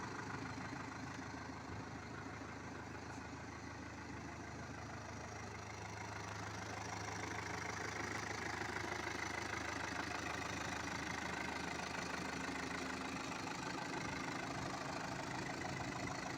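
A 2021 MTZ-82.1 Belarus tractor's diesel engine idles steadily, a low, even rumble with a faint knocking rhythm that holds for the whole stretch and eases slightly near the end, with no talk.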